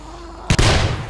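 A single sharp gunshot blast in the video game 7 Days To Die, with a booming tail, loud and close, bursting out of a quiet background.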